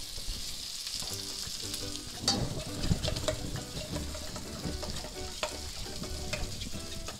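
A thick meatball mixture being stirred and loosened in a Gotham pan, giving steady wet scraping and churning with a soft sizzle running underneath throughout, plus a few sharper clinks along the way.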